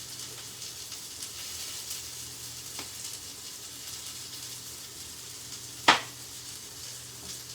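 A tablespoon of cayenne pepper sizzles in a hot pan as a steady close hiss and crackle, with a sharp clack near the six-second mark and faint background hum.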